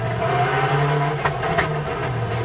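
Gilles Panizzi's Peugeot rally car charges up a World Rally Championship stage in 2000, its engine droning steadily and loudly close by with a faint whine riding above.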